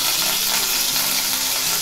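Curry leaves drop into plenty of hot oil for the tempering of a Malvani bangda (mackerel) fish curry, giving a bright, steady crackling sizzle, close and continuous.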